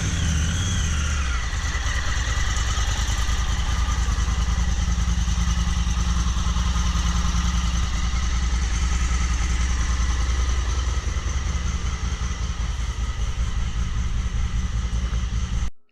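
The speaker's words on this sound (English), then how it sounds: "we are going to cap it off here so we can start the engine" Engine of a 2019 Honda Talon X side-by-side starting up and settling into a steady, loud idle after an oil and filter change, a continuous low rumble close by with no talking.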